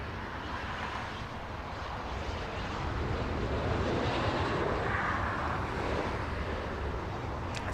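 A business jet arriving at Los Angeles International Airport produces a steady, broad engine roar that swells slightly midway, heard from a distance with some wind noise and no voices.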